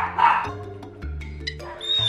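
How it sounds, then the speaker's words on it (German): A dog barks in a toy animal hotel's dog garden, a few short barks and yips close by, mixed with music and other sounds in a children's cartoon scene. "Da bellt ein Hund."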